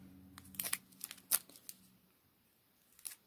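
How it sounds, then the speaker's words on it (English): Plastic wrap is torn and crinkled off a new Fitbit Versa 2 smartwatch in a few quick, quiet rustling bursts, then a short pause and one last crackle. "Let's unwrap this plastic here."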